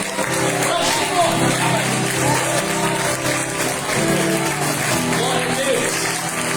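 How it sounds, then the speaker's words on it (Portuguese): A congregation applauds steadily inside a church during worship, a dense, continuous wash of clapping mixed with voices and singing over the full stretch. "Aplauda ao Senhor bem forte."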